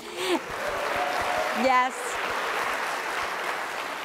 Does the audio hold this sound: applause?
yes